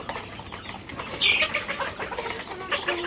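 A black rooster, a hill breed used as main breeder, with chickens clucking nearby; short bird calls rise over a steady farmyard background, with a brief louder burst of clucks in the middle.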